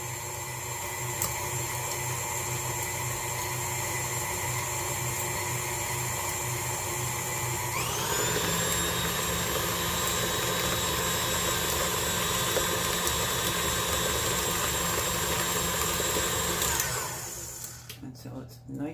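An electric mixer beats cookie dough with eggs until creamed, a loud continuous whir that shifts up in pitch partway through before cutting off, with a voice talking over it.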